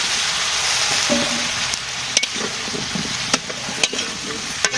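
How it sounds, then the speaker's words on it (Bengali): Vegetables tossed into spiced oil sizzle steadily while a utensil stirs them in the pan, with sharp clacks of the stirrer against the metal over a continuous frying hiss. "মশলা কষানো হয়েছে, এখন সবজি দিয়ে দেব।"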